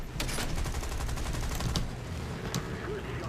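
Rapid aircraft gunfire bursts in the War Thunder flight combat game, dense crackling volleys with sharper cracks standing out, loud and continuous throughout.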